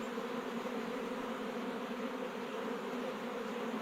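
Bees rescued from a storm-felled tree swarm around a hive box, making a thick, even buzzing hum that stays constant and close throughout, with no voices.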